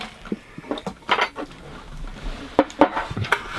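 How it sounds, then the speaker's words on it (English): Gummy worm candies tumble into a bowl in a kitchen, giving a few soft irregular taps and light clinks against the dish, fairly close and quiet. "So we're going to pour in our gummy worms."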